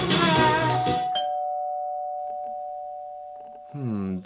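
A doorbell gives a two-tone ding-dong chime, a clear ring that fades slowly, with singing just before it and a voice starting again right after.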